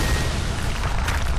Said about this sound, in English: A horrible bang almost split my eardrums.